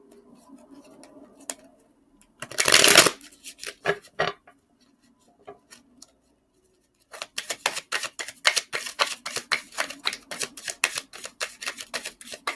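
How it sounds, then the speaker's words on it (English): Tarot cards being shuffled by hand: a brief burst of riffling, a few scattered taps and slides, a pause, then a long run of rapid, crisp card flicks close by with no talking. "I'm just going to shuffle."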